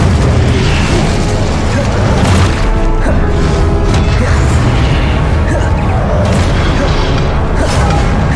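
Fire spell Incendio cast in the Hogwarts Legacy video game: a loud, dense burst of booming, crackling magic effects that holds steady for several seconds over a continuous rumbling low end.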